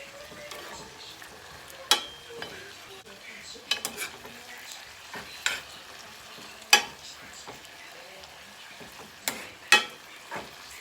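Ginger frying in a pan for brown stew fish, a soft background sizzle punctuated by sharp utensil clicks and knocks against the pan at irregular intervals.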